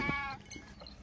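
Sheep on a farm in Pakistan bleat in one brief, loud, wavering call near the start, followed by quieter farmyard noise.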